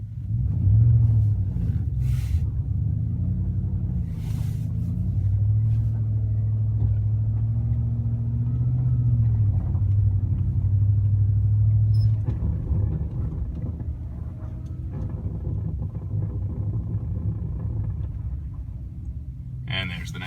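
A Chevy Silverado 4WD pickup drives in 2 high on sand with traction control and StabiliTrak on, giving a steady low engine rumble throughout that eases slightly toward the end, with voices talking over it.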